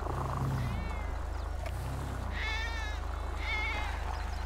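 Cat in the video game Grand Theft Auto V meows twice, clear and fairly close, over a loud, constant engine drone with a faint voice early on.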